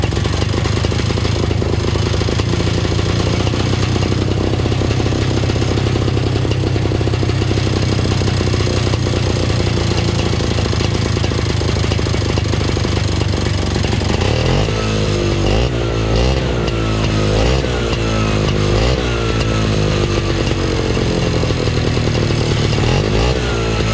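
Vintage Johnson snowmobile engine running after revival, a loud, continuous, close two-stroke-style drone with rough clatter that shifts into rising and falling revs later on, with no talking.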